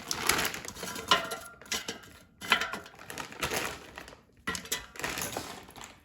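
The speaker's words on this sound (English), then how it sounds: "Now let's take out the air fryer basket and I'll put fries in the basket" Frozen steak fries tumbling into an air fryer basket, a run of dry rattling clatters in several bursts with brief pauses, close and fairly loud, no talking.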